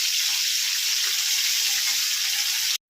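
Chicken pieces fry in oil in a pan over lowered heat, producing a continuous bright, even sizzle that is close and loud with no talking, ending abruptly near the end.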